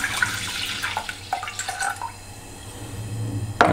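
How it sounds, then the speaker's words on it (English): Milk poured into a pan of roux over very low heat for a white sauce, a soft liquid pour with light splashes and drips, fairly close, ending in a brief louder splash. "you're going to pour your milk in."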